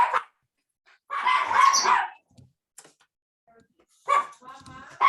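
A dog gives a few loud, close barks and yips in short bursts separated by silence, with some whimpering at the end.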